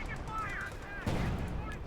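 A single gunshot in the Company of Heroes 2 strategy game, a short sharp crack over steady battle ambience.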